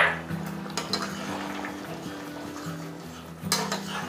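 A spoon scrapes and clinks against a pot while chicken masala gravy with homemade garam masala is stirred, giving close, steady metallic stirring with a few sharper knocks and a low simmering hum underneath, no voices.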